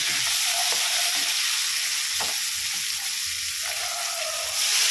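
Katla fish pieces being stirred in hot oil, a steady loud sizzle and crackle of frying with soft scraping strokes of the spoon running throughout.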